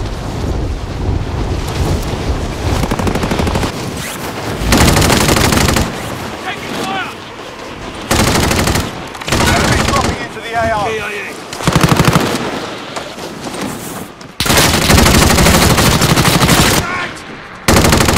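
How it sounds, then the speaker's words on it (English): Heavy automatic gunfire from Call of Duty: Modern Warfare comes in long, loud bursts separated by pauses, mixed with wind-like rumble and battle noise, and voices talk in between. "Taking fire!"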